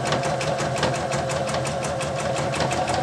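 A sewing machine running a straight stitch at 3.5 length through medium-weight woven fabric while free-handing a small purse, a steady, loud, close mechanical whir with a fast, even needle rhythm throughout.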